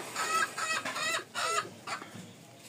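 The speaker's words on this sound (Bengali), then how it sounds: "গ্রামে আছি, মুরগির শব্দ" Village chickens cluck close by in a steady run of short, repeated calls, with no voices over them.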